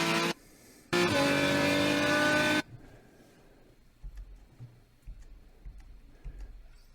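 A race car on the Utah Motorsports Outer track roars loudly in two bursts, cuts off abruptly under braking, then leaves only faint ticking and low thumps.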